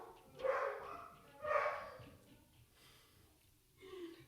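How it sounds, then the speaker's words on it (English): A dog barks indoors during a home HIIT workout session, two distinct muffled barks about a second apart followed by a fainter third yelp, moderately distant and quiet. "That would be my dog barking in her collar"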